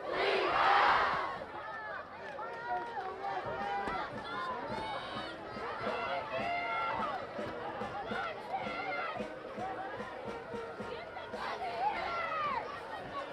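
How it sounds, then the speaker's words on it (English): Crowd noise at a Paraclete vs. St. Francis high school football game: a loud burst of cheers at the start, then a steady roar of chatter and shouting that carries through, with a voice speaking over it. "And you hear the sound of the crowd."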